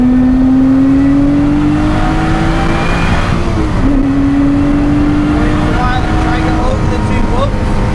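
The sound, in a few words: race car accelerating on Oulton Park circuit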